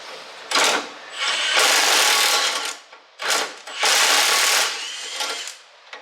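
An impact tool whirs in two loud bursts, each with a short lead-in rattle, while unbolting the lift chain from the lift rod on a Wheel Horse 310-8 mower in a workshop.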